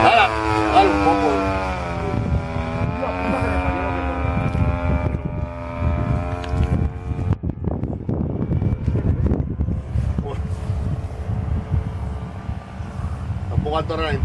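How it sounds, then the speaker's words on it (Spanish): A small aircraft engine idles too high at an aeroclub airfield, a steady droning hum mixed with wind buffeting, while people talk over it. "Está un poco alto ralentí, tendrás que bajarle."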